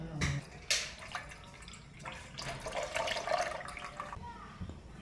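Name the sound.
milk being poured into a pot to heat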